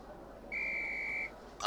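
A referee's whistle in the Harry Potter 1 PlayStation game gives one steady, clear high blast lasting under a second, sharp and upfront over a quiet background.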